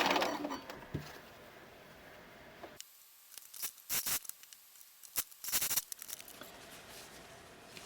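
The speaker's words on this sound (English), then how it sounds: "So I cut each piece apart" Scissors snip apart chain-sewn bias tape pieces: a handful of short, crisp, close cuts scattered over a few seconds, with quiet handling in between.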